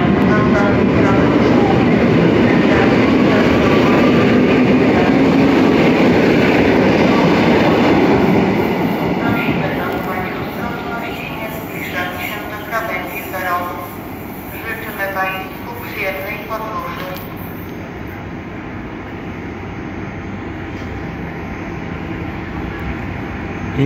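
Intercity train passing through Opole Główne station, with a loud, steady rail rumble for the first several seconds that then eases into quieter rolling and squealing as it moves away, while a public-address voice comes in over it.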